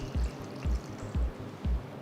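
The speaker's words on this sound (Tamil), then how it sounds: "தேவையான அளவு தண்ணியை ஊற்றி" Water is poured into a pressure cooker holding soaked chickpeas, coming in rhythmic glugging bursts about twice a second, close and moderately loud.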